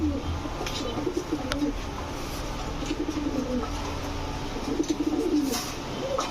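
A female Indian pigeon coos repeatedly at a dealer's pigeon farm, the soft low calls rising out of steady background noise from other birds.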